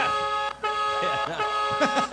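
Several short car horn toots sound amid street noise, with voices chattering nearby between the honks.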